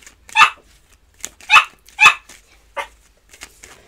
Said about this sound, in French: C'est ma petite Smart qui aboie